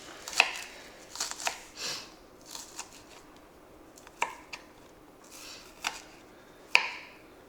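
A knife chops scallions on a cutting board, making several sharp, separate knocks spaced irregularly across the stretch, close and fairly quiet, with soft rustles between them and no talking.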